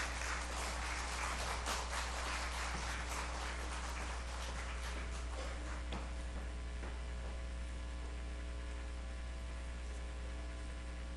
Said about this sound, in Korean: 우리 교수님 나오실 때 큰 축복의 박수로 맞이해 주시면 감사하겠습니다